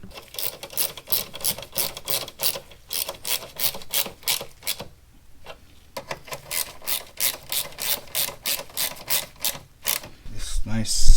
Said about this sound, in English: We're gonna tighten it with the clamp. It's 8mm.